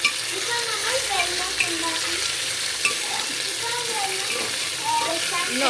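Finely chopped chicken for a chicken soup is stirred and fried in a pan, giving a steady close sizzle with scraping stir strokes throughout and no talk.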